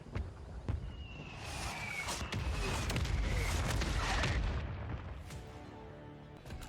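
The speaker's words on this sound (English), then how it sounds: "Artillery, boom, nice and simple." An artillery strike in Call of Duty MW3 lands as a sustained rumbling roar of explosions that swells and fades over several seconds, with a few sharp cracks at the start and no talking.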